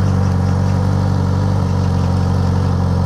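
A new Suzuki GSX-S1000 motorcycle engine idles with a loud, steady, low rumble heard up close, alone for three seconds.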